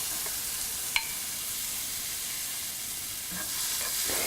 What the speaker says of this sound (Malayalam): ഇതിലോട്ട് നമ്മൾ കട്ട് ചെയ്ത് വെച്ചിരിക്കുന്ന ടൊമാറ്റോ ഇട്ട് നന്നായിട്ട് മിക്സ് ചെയ്യുക